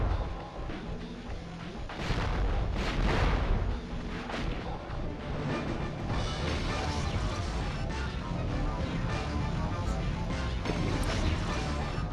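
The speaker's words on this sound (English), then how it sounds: "I fire multiple missiles at once now" Several missiles launch at once in the mecha game Future Cop LAPD, producing loud crashing blasts and booming impacts in a dense, continuous barrage of explosions with chaotic rumbling.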